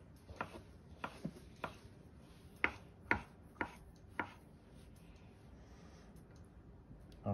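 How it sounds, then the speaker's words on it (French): A knife slices through an avocado strip for maki on a cutting board, giving about ten crisp, separate taps at an uneven pace, close and fairly quiet. "On va pouvoir découper le strip d'avocat"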